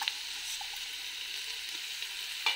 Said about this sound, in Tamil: இப்போ நல்லா கொஞ்சம் தான் வதங்கி இருக்குது இந்த வெங்காயம்